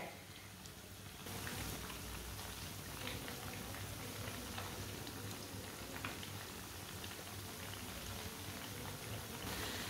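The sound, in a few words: pakoras frying in hot oil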